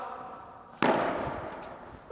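Padel ball struck overhead with an Oxdog Ultimate Pro Smash racket: one sharp, fairly close hit cuts through quiet background with a short ringing decay, and faint voices around it.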